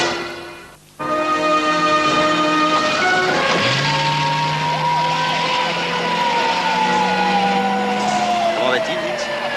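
An ambulance siren wails in loud, sweeping tones over an engine's rumble, starting after a short pause and continuing with overlapping rising and falling pitches.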